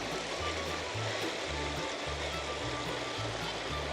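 Continuous broadband rush of the River Helmsdale flowing in Scotland, steady and close, with a low intermittent rumble underneath and no talk.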